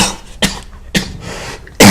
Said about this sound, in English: Oh, that makes me cough